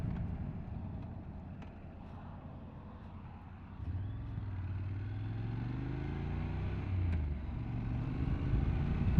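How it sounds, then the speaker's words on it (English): A Honda NC750X motorcycle rides along a country road in spring, its engine droning steadily beneath strong wind rush, the pitch rising and falling as it accelerates. "get out on the bike, have a bit of a ride"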